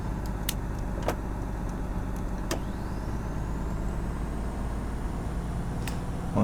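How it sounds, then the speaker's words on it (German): Engine brake of a truck slowing it down in the game Truck World Australia, a steady low droning rumble with a few short clicks and a faint rising whine, no voices. "mit der Engine Brake runterbremsen lassen"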